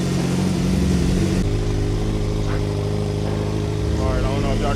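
A Suzuki GSX-R 600 motorcycle engine idles steadily to warm up before an oil change and coolant flush, a low continuous drone with a slight drop in pitch early on and a voice talking over it.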